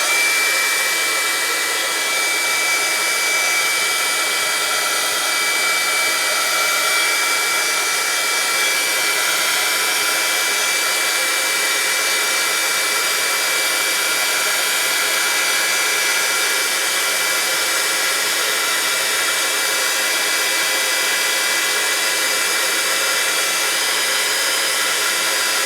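A hair dryer blows steadily to dry freshly sprayed mica spray made from Arteza mica powder, a loud, even, continuous whoosh that runs unbroken the whole time with no talking.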